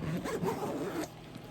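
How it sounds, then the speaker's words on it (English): The small zipper on the front of a pencil case is pulled in one quick, close rasping stroke lasting about a second, then stops, leaving quiet. "And then we have the small zipper in the front."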